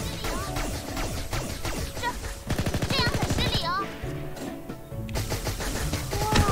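Pistol gunfire in the anime shooter game Gun x Dimension comes as rapid bursts of sharp shots layered with game music and effects, with someone talking over parts of it.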